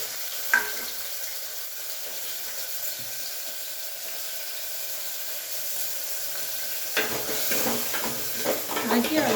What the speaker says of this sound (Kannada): ಇದಕ್ಕೆ ಒಂದು ಸ್ವಲ್ಪ ಎಣ್ಣೆ ಹಾಕಿ ಈರುಳ್ಳಿ ಮತ್ತು ಟೊಮೊಟೊ ಕಟ್ ಮಾಡಿ ಇಟ್ಕೊಂಡಿದ್ದು ಅದನ್ನು ಹಾಕಿ